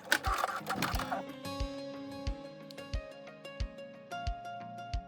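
A sewing machine runs a regular straight stitch along tank top straps, with a fast steady mechanical whir and evenly spaced low thumps of the needle. An irregular clatter comes near the start, and the whole is moderately quiet with no talking.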